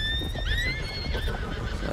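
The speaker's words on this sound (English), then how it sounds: "Horses are running away." Horses in Red Dead Redemption 2 neigh and whinny loudly over a steady rumble of hooves, shrill calls rising and falling across a dense, continuous mix.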